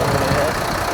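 A Mercedes-Benz Axor rigid truck engine running just after a push-button start, a loud, close, steady diesel rumble with a knocking texture throughout.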